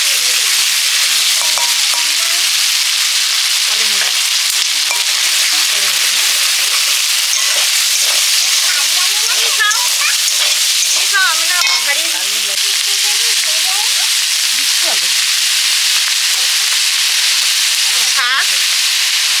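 Bete greens frying with panch phoron, dried red chilli and ground cumin-coriander paste, a loud steady hiss of oil with intermittent stirring scrapes and faint voice in the background throughout.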